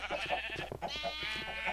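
Minecraft sheep bleat in a short series of nasal, wavering baas, close and fairly clear, with no talking over them.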